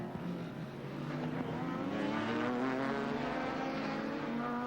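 Sports sedan race cars, including Holden Commodores and a turbo Ford Escort, roaring past at speed on a circuit, engines droning and shifting pitch at a moderate distance, continuous throughout.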